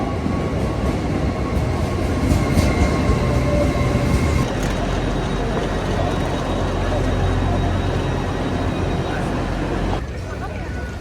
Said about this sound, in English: about to get on my second train inside St Pancras that would take me across to Crawley